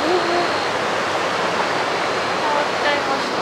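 River water rushes strongly along the main channel beside a riverside campsite, a dense, steady roar of whitewater that fills the scene without pause.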